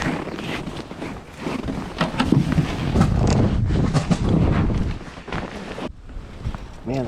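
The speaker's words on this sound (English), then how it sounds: "this wind is brutal" Strong wind blows across a frozen Northern Wisconsin lake during ice fishing, with loud, steady rushing and buffeting on the microphone that eases briefly near the end.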